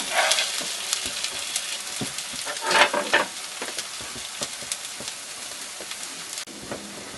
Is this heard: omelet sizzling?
yes